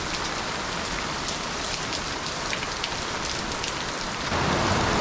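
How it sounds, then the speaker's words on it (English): Rain falls steadily outdoors at a yard where a French drain is being installed, a dense, even hiss that swells louder in the last second, with no talking. "since it's raining"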